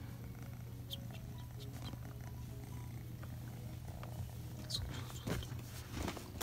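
A cat purrs softly and steadily in a low rumbling drone, close by, with a few faint rustles and clicks on top.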